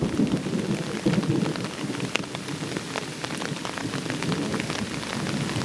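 A tropical thunderstorm with heavy rain hammering down, a steady dense hiss of raindrops with a low rumble of thunder rolling through early on.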